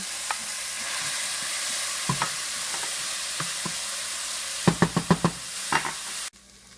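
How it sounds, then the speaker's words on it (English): Onions and garlic frying in a saucepan for a Portuguese cod fish casserole, a steady close sizzle with scattered clicks and a quick burst of spoon taps against the pan, then a sudden drop to quiet, with no voices. "Go ahead and add in the onions and the garlic to your saucepan."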